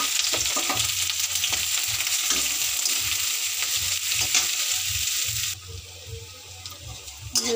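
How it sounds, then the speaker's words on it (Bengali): Onions sizzle and fry in hot oil in a wok, giving a loud, continuous close-up crackle with stirring scrapes throughout. The sizzle drops noticeably quieter near the end. "যে পেঁয়াজটি লাল হয়ে ভাজা হয়ে গেছে, ভাজা হইতেছে।"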